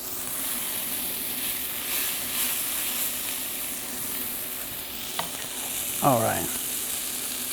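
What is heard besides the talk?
asparagus sizzling in a frittata pan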